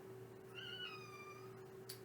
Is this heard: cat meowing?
yes